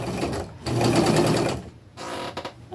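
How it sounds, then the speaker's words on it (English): A sewing machine stitches a t-shirt in loud, close bursts of rapid mechanical whirring, with a short pause and a shorter final run. "now I can come in and sew the rest"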